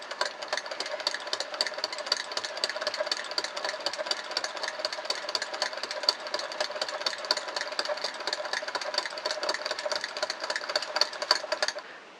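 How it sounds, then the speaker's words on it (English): A Prym I-cord maker, a small hand-cranked knitting machine, is turned steadily, giving a continuous rapid mechanical clatter of clicking needles and gears, close and fairly loud throughout with no talking. "I'll crank just a little bit more, okay, for your entertainment."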